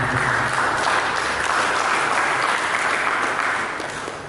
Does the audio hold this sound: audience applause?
yes